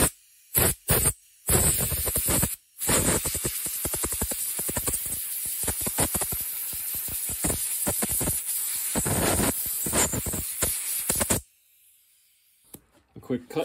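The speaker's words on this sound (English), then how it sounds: "Easiest thing to do there is just blow this thing out with the air nozzle." Compressed air nozzle blows out a lathe collet in loud, harsh hissing blasts, a few short bursts first and then a long sustained blast of roughly ten seconds that cuts off abruptly, close up and with no talking.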